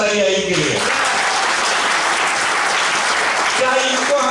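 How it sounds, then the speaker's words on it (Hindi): A loud burst of audience applause greets a leader at a Meta Force LDP program event in Shegaon. The clapping is thick and continuous, and a voice talks over it at the start and the end. "जोरदार तालियां इनके लिए"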